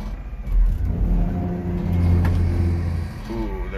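A Honda Acty 4WD mini truck's engine revs loudly nearby, a low throaty drone that swells and holds, then eases off as the pitch shifts near the end.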